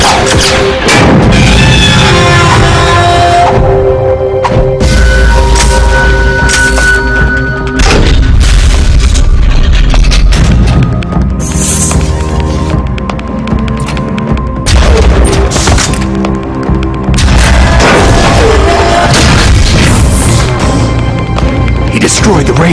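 Explosions rip through the radome in the Metal Gear Solid: The Twin Snakes video game, heavy booms and crashes rolling loud and near over a dense musical score, with voices talking through it.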